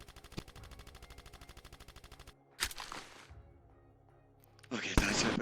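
Rapid gunfire from a pistol in a video game, a fast steady burst of evenly spaced shots, followed by a few sharper bangs and a final loud crack.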